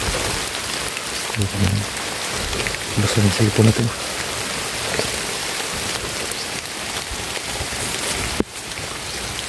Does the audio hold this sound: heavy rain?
yes